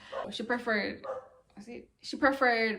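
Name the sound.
dog barking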